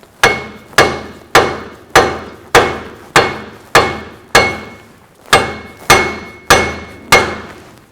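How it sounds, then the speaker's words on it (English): A hammer strikes an axle shaft on a 2000-2006 Chevy Tahoe rear end to seat it for the C-clip, twelve loud sharp metallic blows at an even pace, each ringing briefly before the next. "I'm going to have to give it a couple more taps so that I can get that C-clip in"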